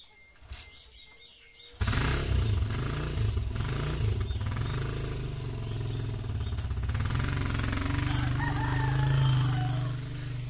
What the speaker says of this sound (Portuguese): Barulho característico da motona do meu pai.